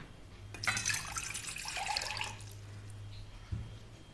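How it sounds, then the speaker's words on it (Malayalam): A glass of water splashes and trickles into a pot for a couple of seconds, close by, followed by a soft clunk. "ഈ പാത്രത്തിനകത്തേക്ക് നമുക്ക് ഇതുപോലെ ഒരു ഗ്ലാസ് വെള്ളം ഒഴിക്കാം."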